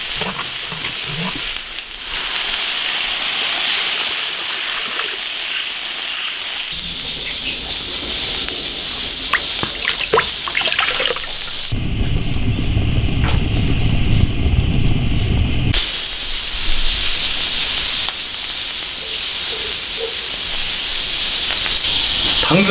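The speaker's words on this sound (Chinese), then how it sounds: "先把那个鱼头煎一下" Fish head frying in an iron wok outdoors, a loud, continuous hissing sizzle with a louder, lower roar in the middle stretch, steady throughout with no voices.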